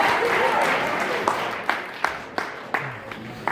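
Sustained crowd applause at a New Year's Eve comedy hypnosis show fills the clip, with a few sharper claps and whoops standing out near the end as the clapping continues.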